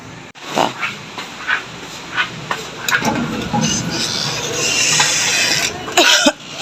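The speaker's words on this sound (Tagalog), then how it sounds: "Excuse me, inuubo ako mga ka-pride." A person coughs several times in short bursts, close up, amid outdoor barbecue activity with some background noise.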